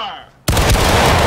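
A musket volley fired by a company in the Civil War game War of Rights: a sudden loud blast of massed shots that rolls on as a sustained roar after a brief quiet.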